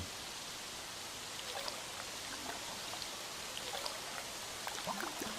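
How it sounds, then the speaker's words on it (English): Water flows steadily in a rainforest waterfall scene heard in a VR experience, a soft continuous hiss and trickle with faint scattered drips, even and moderately quiet throughout. "Feel the water run over your hand and listen."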